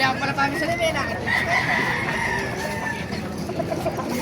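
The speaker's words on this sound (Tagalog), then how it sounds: "Ganda ng mga manok" Several roosters crow over one another at a chicken market in Baliuag, Bulacan, their long calls overlapping steadily with a busy background din.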